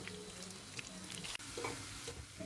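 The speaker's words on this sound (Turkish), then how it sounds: "Arkalı önlü güzelce kızartarak pişirdim." Bread dough made with baking powder frying in a pan, a steady, quiet sizzle with faint stirring and scraping sounds and a brief louder clack near the middle, and no talking.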